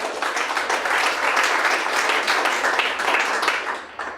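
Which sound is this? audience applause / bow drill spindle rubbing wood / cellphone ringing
audience applause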